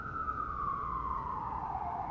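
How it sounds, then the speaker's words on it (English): An emergency vehicle siren wails steadily through a city at night, its single tone sliding slowly downward as it passes, loud and continuous over a constant urban rumble. "I'll wait for that siren to go by."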